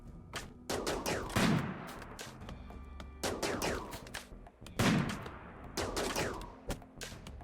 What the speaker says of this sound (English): Someone has a sniper rifle.